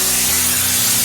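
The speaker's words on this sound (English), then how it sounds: "I'm going to get my canola oil and then give everything a nice spray" Canola oil sprayed from a can onto an offset smoker during cleaning and reseasoning, a steady close hiss lasting about a second with no pause.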